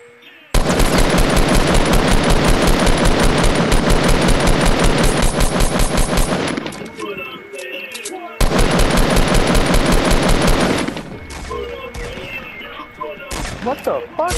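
Rapid automatic gunfire from the video game Fortnite, loud and continuous in two long sustained bursts separated by a brief gap, with quieter game sounds between them.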